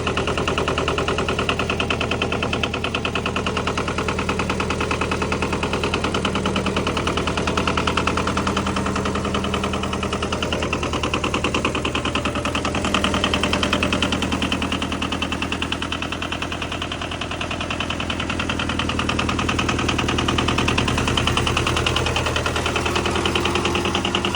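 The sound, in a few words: old tractor engine running at idle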